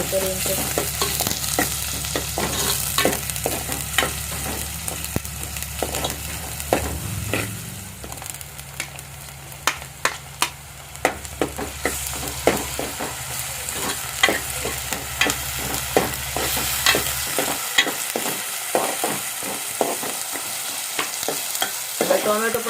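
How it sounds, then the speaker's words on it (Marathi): Chopped onions and tomatoes frying in hot oil in a pot, with a steady sizzle throughout and frequent sharp clicks and scrapes from stirring. Close and fairly loud, with no talking. "आता मस्त वेगी भाजून घ्यायचो कांदो परतून घेऊया लाल"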